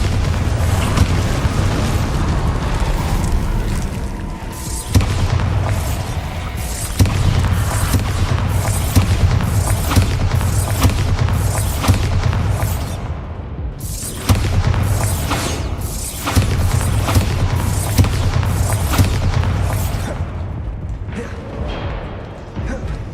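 Repeated Bombarda spell explosions in Hogwarts Legacy, a string of loud booming blasts with rumbling tails recurring every few seconds across a continuous noisy battle bed, with occasional game voices beneath.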